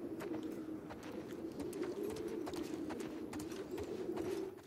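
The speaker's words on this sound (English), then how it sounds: "I think that's pigeons, actually." Pigeons cooing in The Last of Us Part II, soft throaty coos over a constant low ambient hum, faint and somewhat distant, with scattered small clicks.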